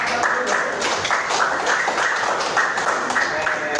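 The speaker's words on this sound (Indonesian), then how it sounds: "Tepuk tangan" Steady applause from a classroom of students fills the space, dense and continuous throughout, with faint voices mixed beneath the clapping.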